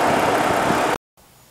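A Ford F150 pickup's 3.3-liter V6 idles with a steady, close rumble for about a second, then cuts to silence before a faint low hum returns.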